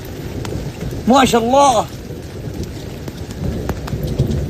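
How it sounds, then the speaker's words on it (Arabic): A thunderstorm with steady rain hissing throughout and a loud rumbling thunder roll rising over it, while someone speaks briefly and other voices murmur beneath the downpour. "يا رب ترعد كذا رعد، ابي الرعد"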